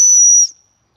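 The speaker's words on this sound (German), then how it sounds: "Pfeife testen wir." A survival fire steel's built-in whistle, an accessory to a multi-purpose telescopic spade, gives one loud, bright, shrill blast lasting about half a second, then cuts off into silence.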